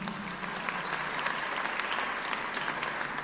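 A church congregation applauds during a French-language sermon, a steady, dense wash of clapping from many hands that fills the room with no speech over it.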